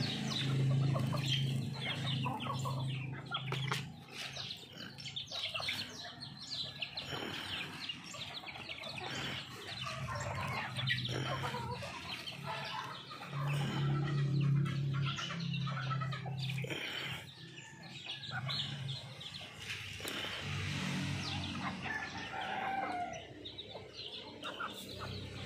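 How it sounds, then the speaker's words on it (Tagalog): A flock of chickens clucks and squawks continuously nearby, with a rooster crowing and scattered bird chirps mixed into a busy outdoor background. "Yun ang manok ng pula ko,"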